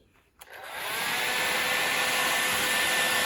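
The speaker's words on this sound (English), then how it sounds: "we're gonna try to melt this marshmallow with it" A hot air dryer clicks on and settles into a loud, steady blowing roar aimed at a marshmallow, the airflow holding constant after a brief start-up surge with no voices over it.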